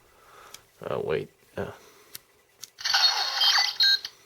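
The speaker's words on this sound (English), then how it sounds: "makes that beeping noise" A bright electronic beep sounds once as a DX Genesis driver powers on, following brief voice sounds and clicks; fairly loud and close.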